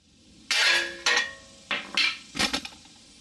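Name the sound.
hammer tapping out a car tie rod end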